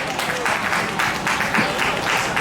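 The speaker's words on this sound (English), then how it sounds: "Can we get a big round of applause for Patrick Brown?" Audience applause for Mayor Patrick Brown at an ISKCON Brampton Hare Krishna festival in a park, a steady dense wash of many hands clapping throughout without a break.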